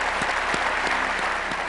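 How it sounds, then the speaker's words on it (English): Applause from a gathered crowd honoring veterans, a continuous wash of many hands clapping at moderate loudness, with a few sharper individual claps standing out. "It's applause long overdue"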